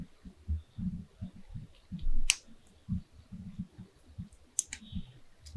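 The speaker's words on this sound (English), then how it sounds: "Everything's clicking real satisfyingly." Plastic parts of an HGUC Messer Type-F01 Gunpla model kit are pressed together in a series of soft, close clicks and snaps, with a few sharper louder clicks standing out among quiet handling noise.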